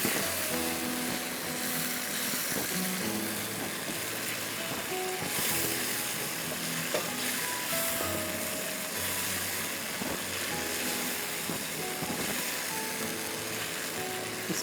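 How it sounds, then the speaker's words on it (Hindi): Beef fries in a pot with tandoori masala and salt, giving a low, steady sizzle and crackle throughout, scattered with soft clinks and scraping from stirring, fairly faint and without talk. "तंदूरी मसाला और नमक डाल के भूनिए"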